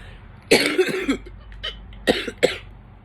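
Two bursts of coughing, a few harsh coughs around the half-second mark and another pair near the end, close and fairly loud with no talking.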